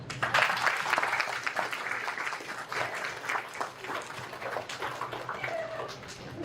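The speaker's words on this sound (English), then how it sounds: "give them a big applause" Audience applause closing an award ceremony at a BCSS board meeting, a moderately distant, uneven patter of many hands clapping that continues steadily without speech.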